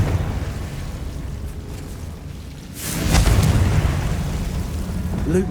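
A Confringo fire spell blast in Hogwarts Legacy catacombs, a sudden loud whooshing burst that swells into a rumbling roar after a quieter, hissing stretch, with a faint voice in the background.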